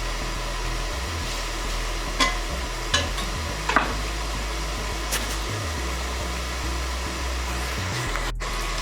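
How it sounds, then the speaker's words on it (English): Bacon fries in a pan with a soft, steady sizzle and a few sharp clinks, set against a constant low fan-like hum. "get this bacon fried up."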